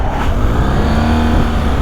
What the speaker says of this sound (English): Oops, my foot slipped on the gravel there. I nearly revved her off the road.